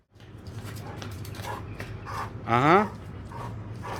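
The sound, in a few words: dog at a kennel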